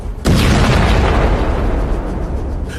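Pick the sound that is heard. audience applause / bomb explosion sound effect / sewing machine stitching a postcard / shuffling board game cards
bomb explosion sound effect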